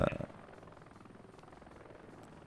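A helicopter in the video game Heliborne: a faint, rapid rhythmic rotor chop pulsing steadily after a brief louder burst at the start.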